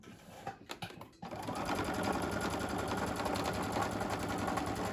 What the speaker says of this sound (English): Now it's time to start sewing.